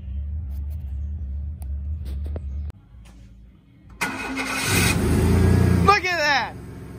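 A car engine cranks and fires up after a new starter motor is installed, catching quickly and settling into a loud, steady idle close by, with a garage background and some talk.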